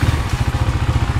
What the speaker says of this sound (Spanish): prender la moto